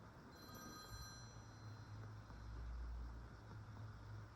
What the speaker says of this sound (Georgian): ტელეფონი რეკავს, არ უპასუხოთ.